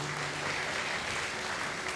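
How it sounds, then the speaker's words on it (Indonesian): Applause from a church congregation giving praise to God during a worship service, a steady even wash of clapping filling the whole stretch without pause. "Berikan tepuk tangan buat Tuhan."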